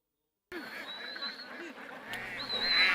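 Ducks on a Kerala farm hit by a bird flu outbreak give a few short, hoarse quacks over steady outdoor ambience, moderately close and fairly faint.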